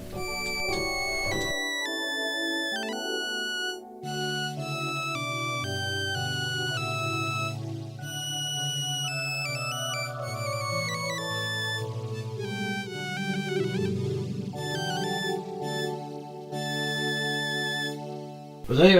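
A synthesized violin preset played on an electronic organ with solo tabs engaged, sounding as a continuous melodic line of sustained bowed-string tones over held chords and a bass line, loud and alone for about nineteen seconds.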